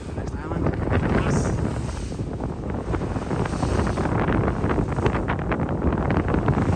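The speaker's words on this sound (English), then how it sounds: "Just great sailing out there now" A sailboat cuts along offshore at about six knots under steady wind, with continuous rushing wind buffeting and water hiss loud throughout.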